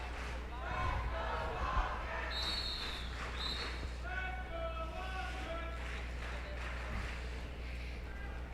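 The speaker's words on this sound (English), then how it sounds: "Love hearing the crowd cheering on their teams here." Crowd noise at a roller derby game in an arena, a steady murmur with scattered cheers and whistles rising through it, fairly loud but diffuse and sustained throughout.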